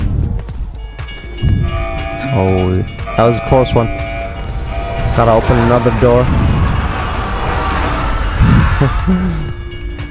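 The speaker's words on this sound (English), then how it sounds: "Yeah, I love that there's like trains on fire just going around." Burning trains rolling past on a track in the Call of Duty zombies map Mauer der Toten, a steady rumble with horn-like tones, heard under someone talking.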